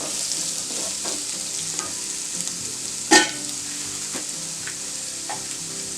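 Chopped onions sautéing with salt in a pan with cardamom for a pudina paneer pulao, a steady close sizzle with soft stirring strokes and one brief louder clatter of the spatula.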